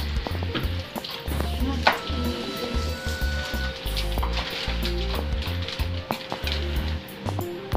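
Adobo sizzles steadily in a pan for a family Sunday lunch, its continuous frying crackle joined by scattered clinks and knocks of a utensil. The sound is fairly loud and close, with no voices.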